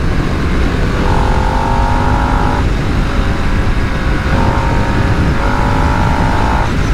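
A 2022 Harley-Davidson Nightster 975 motorcycle engine drones loudly and close, its pitch rising in a few brief revving surges over a constant rush of wind.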